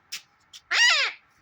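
A talking parrot lets out a harsh, rasping squawk, loud and close, preceded by two short faint clicks in an otherwise quiet space.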